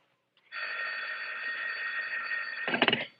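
Telephone sound effect in a radio drama: a steady electronic ringing tone holds for about two and a half seconds, then a short burst of clattering rattle as the line cuts out, heard alone at moderate level.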